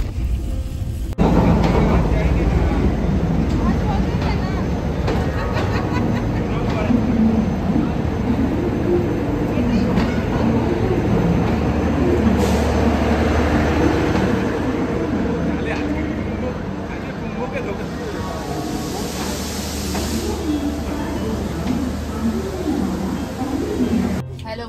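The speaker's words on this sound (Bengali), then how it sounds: "আমরা এসে গেছি, উঠে গেছি ট্রেনে। নাম দেখে নিয়েছো, উপাসনা এক্সপ্রেস 12327" Inside the Upasana Express 12327 bound for Haridwar at Howrah station, a continuous loud rumble of rail carriages and platform bustle fills the scene, with people talking throughout and some birds in the background.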